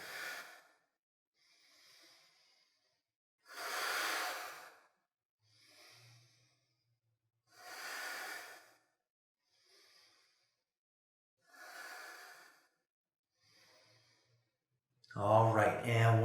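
Slow, deep yoga breathing during a held pose: long airy inhales and exhales alternating at an even pace, close and soft, with a voice speaking briefly at the end.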